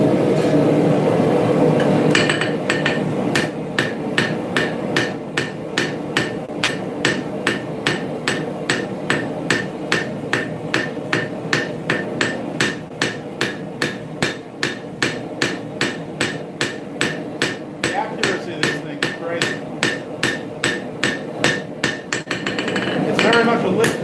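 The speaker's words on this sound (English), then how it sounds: "Very much a lift and drop hammer." A lift and drop power hammer pounds in a fast, steady rhythm while forging a karambit, dozens of heavy, evenly spaced blows ringing out over a continuous workshop hum.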